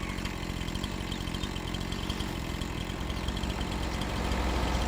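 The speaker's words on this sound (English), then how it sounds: "Chainsaw!" Chainsaw cutting storm-damaged trees in Farming Simulator 25 on PS5, a steady, close engine buzz running continuously with a slight swell in loudness near the end, no voices over it.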